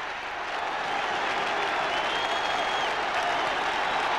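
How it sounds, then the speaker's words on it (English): A football crowd at Everton v West Bromwich Albion, an FA Cup third-round replay, applauds and cheers a goal as the scorer goes over to them. The roar is loud, dense and steady from start to finish. "Sheedy goes to the crowd to take the congratulations."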